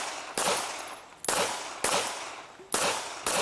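Gunshots ring out at an IPDA shooting match stage at the Mecklenburg Wildlife Club: four or five sharp, loud reports at a fairly even pace, each decaying into a lingering outdoor echo.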